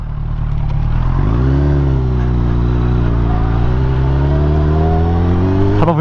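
A Yamaha motorcycle rides off with its engine revving and climbing in pitch as it accelerates, loud and close throughout with no one speaking.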